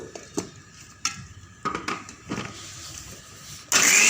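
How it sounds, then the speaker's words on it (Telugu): A kitchen mixer grinder being used to grind masala finely for Andhra-style fish curry. A few clinks and knocks of handling come first, then the motor kicks in with a loud, steady whirring roar near the end. "నేనైతే మెత్తగా మిక్సీ వేసుకుంటున్నాను"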